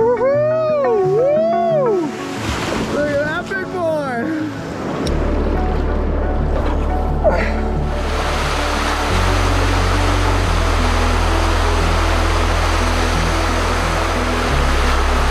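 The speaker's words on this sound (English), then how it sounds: "Big waves are coming all the way to the shoreline." Large waves surge against a winter Lake Superior shoreline, a broad continuous roar of surf close by, steady and loud throughout, with a low droning tone underneath in the second half.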